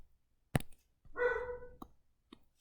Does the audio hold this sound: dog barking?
yes